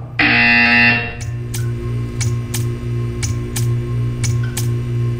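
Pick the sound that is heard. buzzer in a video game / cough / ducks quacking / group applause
buzzer in a video game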